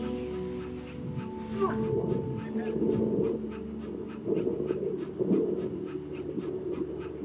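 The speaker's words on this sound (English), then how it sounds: "That is a dog." A dog pants rhythmically in the video game That Dragon, Cancer, a steady close huffing under background music and a speaking voice.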